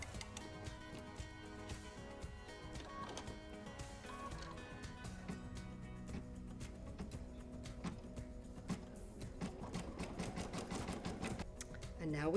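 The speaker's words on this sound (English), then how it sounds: "Back to the sewing machine." A sewing machine stitches appliqué pieces for an emoji quilt design, running in fast rattling bursts that grow busier toward the end, at a quiet level in the room.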